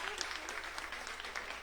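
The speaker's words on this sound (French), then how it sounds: "je vous demande de les applaudir chaudement" An audience warmly applauds an orchestra at a community concert stage, steady dense clapping filling the space with a faint murmur of voices underneath.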